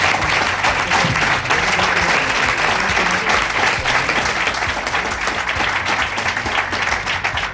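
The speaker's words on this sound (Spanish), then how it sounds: "Fuerte aplauso para él." A live audience at a presentation of a regional radio station's programming breaks into loud, sustained applause, dense clapping from many hands holding steady throughout without a pause.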